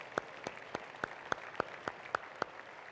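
Applause from an event audience as two guests come up to the stage: a run of separate, fairly sharp claps recurring at a steady pace, moderately loud and with no talking over them.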